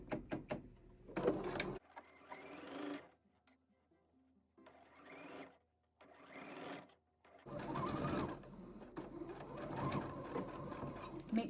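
A sewing machine stitches an ironing board cover in several bursts of steady mechanical whirring, separated by short pauses and near-silent gaps, close and fairly loud.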